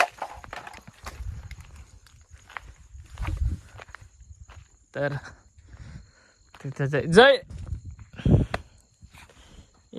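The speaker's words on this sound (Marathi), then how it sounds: "गाईच येतोय." A cow walks along a rural path at night, its irregular hoofsteps thudding near and far between stretches of quiet while a person speaks over them.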